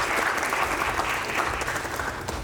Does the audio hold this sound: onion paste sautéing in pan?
no